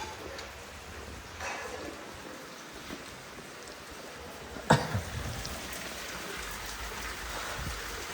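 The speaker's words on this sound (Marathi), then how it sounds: "पाऊस पडायला सुरुवात झाली आहे" Steady rain of the first monsoon shower in the Konkan, a continuous dense patter on surfaces with one sharp nearby knock midway, no voices.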